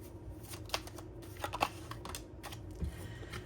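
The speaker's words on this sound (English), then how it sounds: "And I'll show you one of the cards as I'm pulling." Soft papery rustles and flicks of a linen-textured tarot deck as a card is pulled, a few quiet, close crisp snaps over light handling noise.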